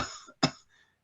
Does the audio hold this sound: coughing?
yes